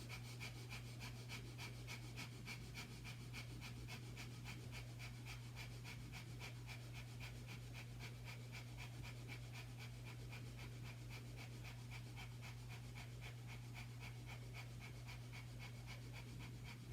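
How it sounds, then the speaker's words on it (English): Rapid, rhythmic breath-of-fire panting during a yoga flow, quick forceful breaths repeating evenly and steadily throughout, faint and close, with a low steady hum beneath and no talking. "if you wish, breath of fire."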